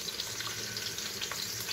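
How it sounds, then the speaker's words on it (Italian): A roast browning in a pot after the onion, garlic and soffritto have been removed, giving a steady close sizzle and crackle of frying with no talk over it. "nel tegame, nella pentola, mettiamo l'arrosto, che lo facciamo rosolare da tutte le parti"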